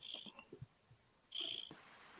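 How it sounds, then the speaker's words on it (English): A cat snores or purrs softly near a microphone, with two faint breathy bursts separated by a short quiet gap and some low murmuring in between. "I can hear Liz snoring all the way through the mic. It's the cat"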